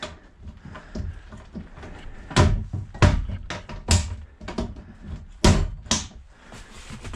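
A cabinet in a camper van is opened and shut several times, giving a run of sharp, close knocks and clunks spaced about a second apart over faint background rustle.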